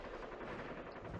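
Quiet, dense rattling bursts of gunfire from a space campaign game, a faint continuous crackle with no voices over it.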